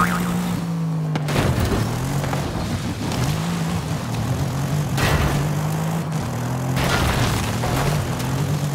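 Mercedes AMG T4 off-road car driven in a Baja-style arena racing video game: a continuous close engine drone rising and falling in pitch as it revs and shifts, with occasional thumps and bursts of rough, gravelly noise.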